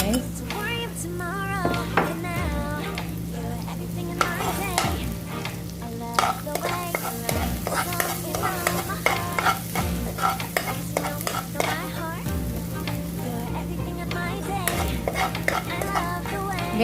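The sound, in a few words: garlic frying in oil in a pan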